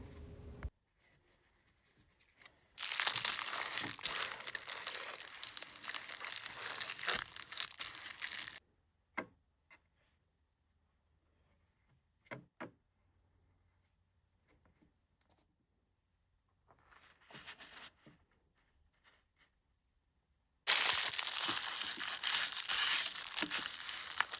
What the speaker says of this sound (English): used plastic wrap so that my hand would glide smoothly over the paper in order to smooth it down